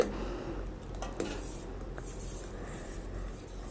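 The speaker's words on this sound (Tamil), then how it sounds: "லோ ஃப்ளேம்லேயே வச்சு இந்த மாதிரி அடிக்கடி நல்லா கலந்து விட்டுகிட்டே இருங்க" A utensil stirs agar agar in a pan over a low flame, giving close scraping and clinking against the metal over a low background hum, with a few sharper knocks.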